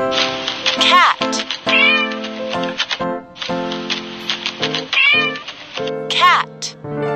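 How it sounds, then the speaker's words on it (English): A domestic cat meows repeatedly, loud and close, with several distinct rising and falling meows in quick succession interspersed with short clicking or tapping sounds. "Cat."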